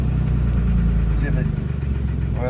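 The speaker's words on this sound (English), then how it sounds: "I let it down to idle, see if the oil light comes on." A 2007 Dodge Nitro with low oil pressure drops back to idle, its engine note settling into a lower, steady rumble heard up close, with faint voices in the background.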